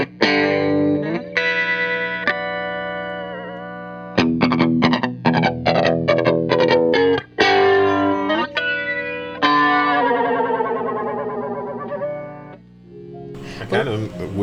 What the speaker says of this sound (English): it does give you that like really 80s, really, again, I guess traditional flanger effect.